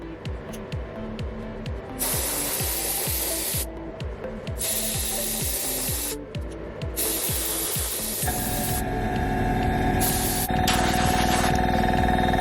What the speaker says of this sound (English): So I'm sort of spraying quite far away from it, just so I can try and get a nice even coating basically